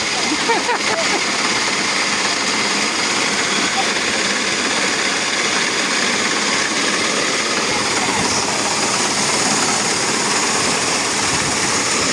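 A Niva SK combine harvester engine runs steadily while threshing wheat, a constant loud mechanical roar that does not let up for the whole stretch, with a voice faintly audible under it.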